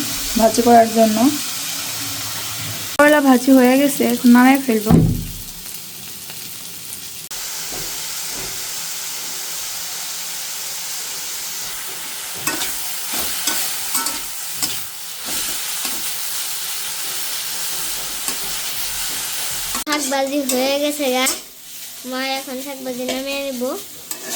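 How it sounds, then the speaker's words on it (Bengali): Bitter gourd pieces sizzle and hiss in a hot pan of oil after pointed gourd has been fried, a steady frying hiss broken by stirring clatter, with voices talking briefly at the start and end. "পটল ভাজি নামানোর পরে এখানে করলাগুলো দিয়ে নিছি"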